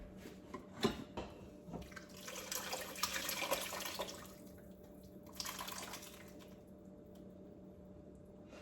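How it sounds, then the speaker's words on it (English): Liquid from an Instant Pot pot roast is poured out in an uneven splashing and trickling stream that swells and fades over several seconds, fairly quiet and without talking. "Let me try to pour this over in here."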